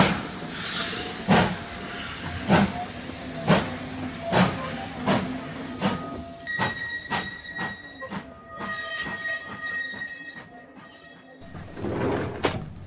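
A steam train chuffs in regular heavy beats, then slows with hissing and squealing wheels before a final burst of steam; no voices.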